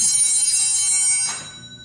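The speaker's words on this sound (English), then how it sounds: "ring the bells" Altar bells rung at the consecration of a Catholic Mass in an 1864 Holy Family church give a bright, sustained metallic ringing that holds steady, then stops abruptly and decays into a brief room tail.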